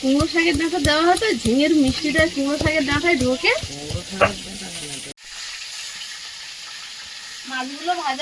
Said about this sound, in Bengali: মাছগুলো ভাজা